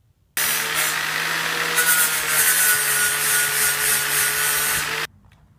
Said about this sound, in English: I'm going to put a flap disc on my angle grinder and clean up the edges.